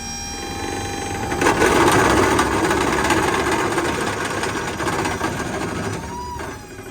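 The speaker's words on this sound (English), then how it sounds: "you turn the master disconnect on. That starts the pump." The hydraulic pump of a 2018 Ford F-450 6.7 diesel crane truck with an AutoCrane bed drones steadily beside the idling engine, swelling after a moment as an outrigger extends, then settling into a constant close hum.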